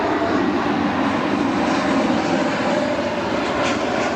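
A Frontier Airlines airliner passes near Cleveland Hopkins airport, its engines giving a loud, steady broadband roar that holds level throughout with no talk.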